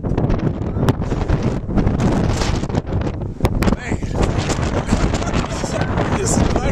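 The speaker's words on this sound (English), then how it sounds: "And it's so windy." Strong wind gusts buffet the microphone at a Grand Canyon cliff edge, a loud continuous roar with rumbling bursts, and a person talks over it.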